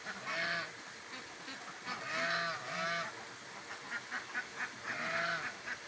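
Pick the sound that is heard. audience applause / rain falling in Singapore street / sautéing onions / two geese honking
two geese honking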